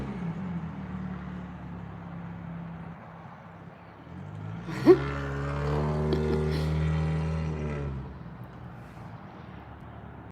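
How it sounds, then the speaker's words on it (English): Loud car passing outside a window, engine rising into a strong rumbling drone midway, holding for a few seconds and then fading away, heard from indoors over a quiet background hum. "Someone's leaving in that car."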